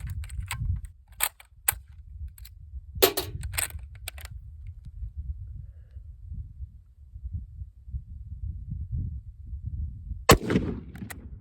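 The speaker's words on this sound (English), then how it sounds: "we will shoot Silver Bear 308." A rifle fires Silver Bear .308 steel-case ammunition outdoors: about half a dozen sharp, loud shots come in an irregular pattern, some in quick pairs and one alone after a long pause, over low background rumble.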